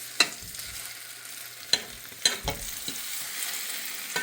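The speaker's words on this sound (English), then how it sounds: "we're gonna add some more butter to our skillet" French toast frying in butter in a skillet, a soft steady sizzle broken by a few sharp scraping clicks of a utensil against the pan, close and moderately quiet, with no talking.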